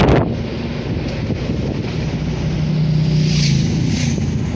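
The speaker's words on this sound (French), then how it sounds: "Il y a du vent." Strong wind on the coast of Réunion island buffets the microphone in a constant, heavy rush, with a low roar like open sea underneath; no one speaks.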